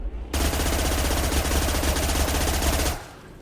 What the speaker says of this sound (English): The Tempest SMG